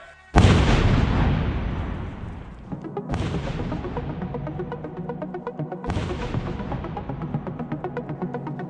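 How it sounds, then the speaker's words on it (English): A live explosive detonates in a test on a G-Shock watch: a sharp, loud blast followed by a long rumbling decay, then two further thunderous booms with rolling echoes. "we're going to take out the detonator here and attach it to the live explosive."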